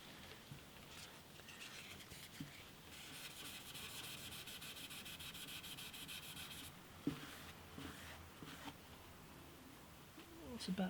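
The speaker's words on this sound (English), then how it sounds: "Finger sand those." Fingers rub sandpaper back and forth over the wooden body of an antique parlour guitar, a steady close-up scratchy hiss with a brief knock partway through, under faint background noise.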